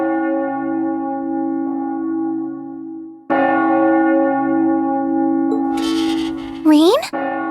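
A church bell tolls in the game Trails of Cold Steel, long sustained ringing strikes with rich humming overtones, a second strike swelling louder midway, followed by brief noisy rustle and a rising chime-like sweep.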